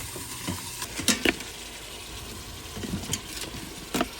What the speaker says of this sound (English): Get those onions cooking.